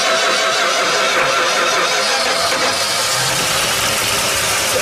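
A 1978 Dodge D100 pickup truck that sat almost 20 years starts up and settles into a loud, steady, rough idle, the engine running close by with a dense, noisy roar and no talk.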